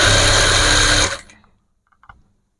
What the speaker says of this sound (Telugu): డబల్ కుట్టు ఎలాగా వేయాలి ఫస్ట్ ఒక కుట్టు వేసేసుకున్న తర్వాత మళ్ళీ ఇంకో కుట్టు దాని మీద వచ్చేటట్టు చూసుకోండి